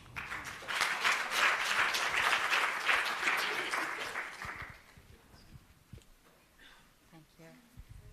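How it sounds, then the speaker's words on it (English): Audience applause at a British Council university innovation event: loud, dense clapping for about five seconds, then thinning into scattered claps as the room settles. "Please give him a wonderful round of applause."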